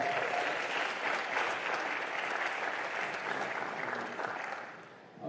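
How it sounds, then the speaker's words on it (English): Spectators at a squash league event in an Amsterdam stadium give a player a round of applause, steady crowd clapping that fades near the end. "Round of applause for Jarmo."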